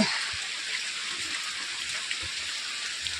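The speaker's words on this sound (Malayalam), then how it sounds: "ഇതിങ്ങനെ ചെറിയ ചാറ്റൽ മഴ ആകുമ്പോൾ" Light rain patters softly and steadily, a fine hiss of drizzle with occasional faint drops, no voices.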